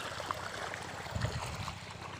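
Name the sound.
water flowing in a creek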